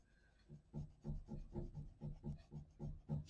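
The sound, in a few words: Woomer crayons gliding on paper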